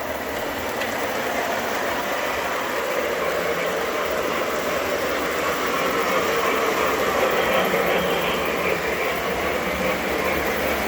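A steady, loud mechanical rumble and whir of a model train locomotive running continuously, with constant hiss and no speech.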